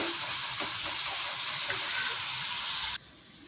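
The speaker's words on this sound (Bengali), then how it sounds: "এবারে আমি এই বাটা মশলাটাও দিয়ে দেব।" Ground spice paste for ghugni hits a hot pan with a loud, dense, continuous sizzle and hiss, close up, that cuts off abruptly near the end.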